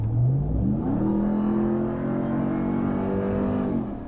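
A supercharged 2021 Ram TRX pickup engine, 702 horsepower, accelerates smoothly, its steady rising drone climbing in pitch over a few seconds before easing off, loud and close.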